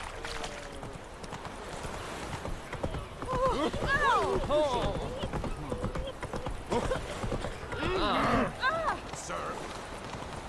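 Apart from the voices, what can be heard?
horse Roach galloping hooves in a video game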